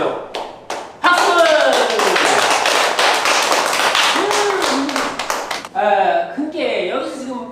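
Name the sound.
audience clapping at a lecture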